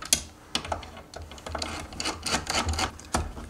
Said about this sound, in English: the final step to remove this old control board is to remove the two screws through the side of the motor here.